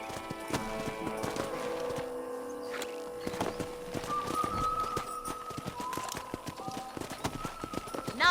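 Horse hooves clip-clop at a steady gallop in the Red Dead Redemption video game, a repeated rhythmic beat under a music score and game ambience, with no clear speech.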